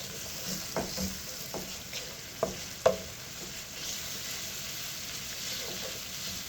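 Food frying in a large cast aluminum restaurant-style fry pan, a steady low sizzle with a few soft scrapes and knocks of stirring scattered through it, fairly quiet and with no voices.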